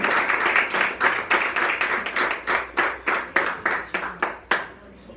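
Worshippers in a church service clap together in a steady rhythmic beat, loud and continuous at first, then thinning into a few separate claps before fading out.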